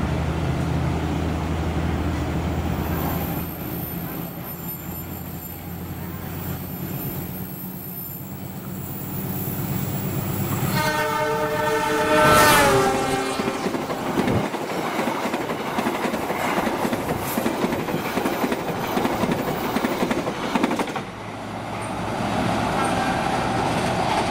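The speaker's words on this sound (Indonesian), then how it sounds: "kereta api Jakatingkir 258D" The Jakatingkir 258D passenger train rumbles past a station near Jatinegara, its horn sounding in a loud stacked blast partway through amid continuous wheel and carriage noise that stays close and heavy throughout.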